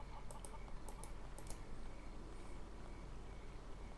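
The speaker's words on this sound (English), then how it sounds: "This wild rooster won't let me past." A wild rooster in the video game Haunted gives a few sharp clucking calls in short bursts over a steady low background hum, fairly faint and with no voices.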